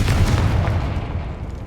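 A Confringo spell explosion in the Hogwarts Legacy game bursts with a heavy, booming blast that decays into a rumbling tail over about a second and a half.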